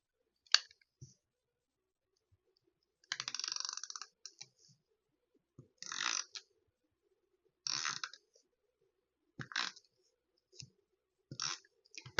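Clear tape is pulled and pressed onto PET stickers on a journal page, producing short bursts of crisp crackling and peeling at irregular intervals, close and fairly quiet, separated by near silence.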